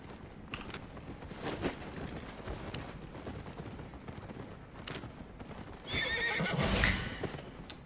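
A horse in the Albion Online video game neighs over clip-clopping hooves, with scattered clicks and a louder burst of whinnying and movement near the end.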